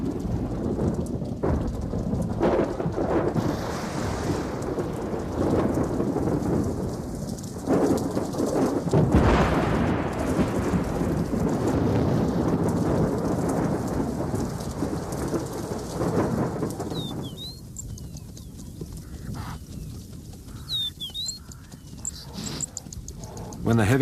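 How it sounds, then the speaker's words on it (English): Heavy thunderstorm sweeping the open savanna, steady loud rain hissing throughout with rolling thunder rumbles, easing slightly toward the end; a few faint bird chirps appear late. "When the heavy thunderstorms rake the savanna"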